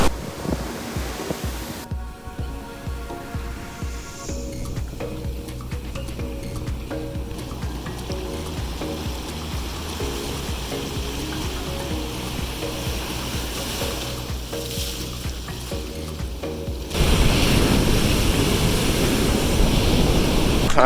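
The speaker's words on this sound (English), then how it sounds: "Day 1, finally at the beach," Ocean surf rolls in at a Bali beach in a continuous wash, with wind buffeting the microphone and a surge of louder breaking water near the end.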